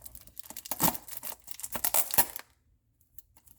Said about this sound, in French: Donc c'est un joli coffret, tout neuf, et nous allons le déballer ensemble.